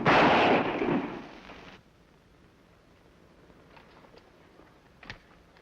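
Blank rounds fire from a sheriff's revolver in an old Western showdown: a loud burst at the start that decays into a quiet tail, with a few faint sharp pops afterward.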